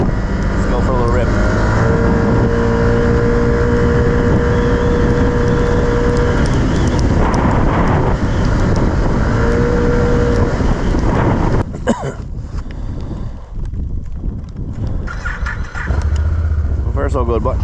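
A Can-Am Outlander 1000 XMR ATV engine starts and revs loudly close by, a continuous throaty drone with rising and falling pitch, then a rougher burst of revving toward the end, with a voice talking over it.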